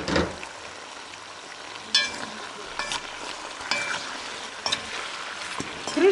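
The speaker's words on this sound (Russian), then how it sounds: "И обжариваю это все вместе." Garlic and onion frying in a pan for lagman give a steady sizzle, with a few short stirring scrapes and clinks.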